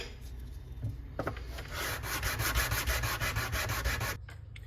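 A Johnson 524 level is sanded by hand, giving close, steady rasping strokes in a quick rhythm for about three seconds before they stop abruptly.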